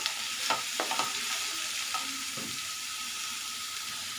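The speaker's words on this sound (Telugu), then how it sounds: "ఇలా వేసుకున్నాక కలుపుతూ ఉండాలి ఫ్రెండ్స్." Bottle gourd pieces frying in oil in a pan, with a steady sizzle and a few scraping stirs early on, alone without talk.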